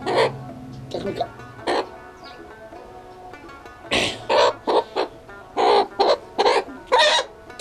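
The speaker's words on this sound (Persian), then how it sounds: "همین مرغ فشار میدم که تخم مرغ کنه" A hen being squeezed to make it lay an egg gives a rapid series of loud, close clucks and squawks in short bursts, with quieter gaps between them.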